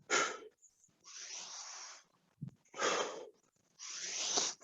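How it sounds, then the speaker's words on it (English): Heavy breathing during push-ups: sharp, forceful breaths out alternating with quieter breaths in, in a steady repeating rhythm, close to the microphone. "Breathe out on the up, breathing on the down."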